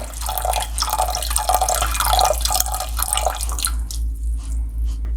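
Slurry is poured into a pan and stirred nonstop, making a continuous wet swishing and dripping sound close by over a low hum, easing off near the end.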